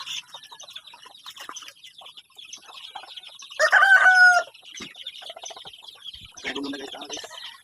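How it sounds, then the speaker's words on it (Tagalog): Chickens cluck and murmur nearby, with one louder crowing-like squawk partway through and soft voices in the background. "maldita nga manok"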